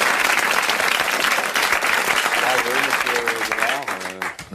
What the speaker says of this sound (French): et que nous allons applaudir